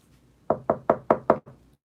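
Six sharp knocks on a door in a steady, evenly spaced rhythm, close and loud, the last one softer, with no other sound around them.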